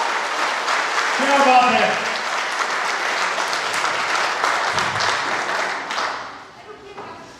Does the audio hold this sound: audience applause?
yes